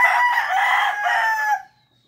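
Rhode Island Red chickens cluck loudly together as a rooster crows, a dense, close flock chorus lasting about a second and a half before cutting off to silence.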